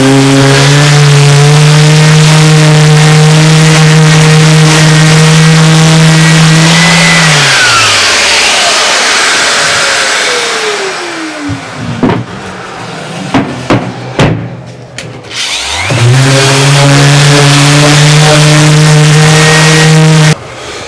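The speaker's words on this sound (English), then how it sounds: "So it's out with the orbital sander" An orbital sander with 80-grit paper on wood whines loudly and steadily, then winds down to a stop. After a few seconds of quiet knocks and handling sounds, the motor spins back up.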